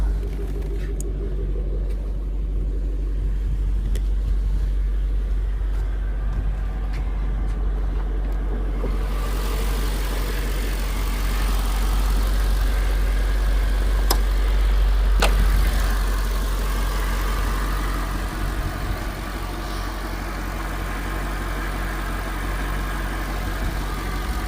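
Mercedes-Benz SL55 AMG, custom 700-horsepower build, idling right after a push-button start: a steady deep rumbling idle, close and continuous, with a few faint clicks and no talk.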